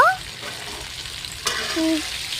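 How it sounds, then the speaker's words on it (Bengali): Sun-dried mango pieces sizzle and fry in hot oil for pickle, a steady close hiss broken by a brief clatter of stirring midway. "তারপরে আমগুলো তেলের মধ্যে দিয়ে দেব"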